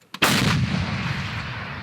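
One deafening M777 howitzer artillery blast booms close by, its thunderous roar rolling on and fading slowly.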